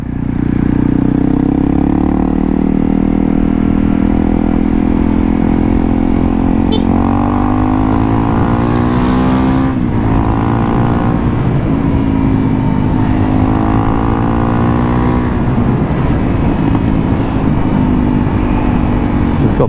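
A Honda CRF 300L motorcycle with a Yoshimura exhaust drones loudly throughout, its pitch rising and falling as it accelerates, shifts gears and revs along the road.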